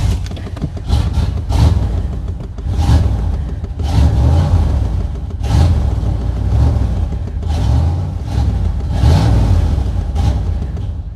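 A 1994 Chevy Silverado K1500 with a 5.7L V8 cranks and revs, a loud, close engine roar that surges and falls in repeated waves for the whole stretch, without talk.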